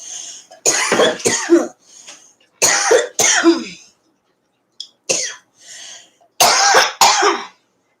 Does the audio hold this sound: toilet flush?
no